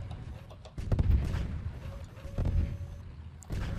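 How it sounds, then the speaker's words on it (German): Tank cannon fire in the online tank battle game Tanki Online: heavy booming shots land near 1 and 2.5 seconds, with a third blast near the end, over a constant low rumble of battle noise. "Weil ich kriege hier zwei Schüsse ab."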